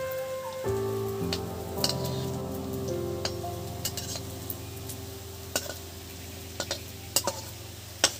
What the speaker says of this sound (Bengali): এটা হচ্ছে একদম সামান্য তেলে ভাজা হচ্ছে।